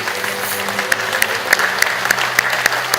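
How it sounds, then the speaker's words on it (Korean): A church congregation claps in welcome for newcomers, a steady crowd of applause with sharp individual claps standing out near the front throughout. "여러분 나가실 때 큰 박수로 환영하시기를 바랍니다."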